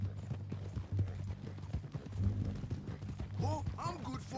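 Horse hooves clip-clop steadily in a video game while a rider is carried tied up on horseback; the rhythmic hoofbeats run throughout, with voices talking over them.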